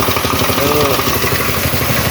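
Chinese-made pressure washer engine running nearby at a steady, loud, rattling idle-like drone with a fast pulsing rhythm; a voice speaks over it.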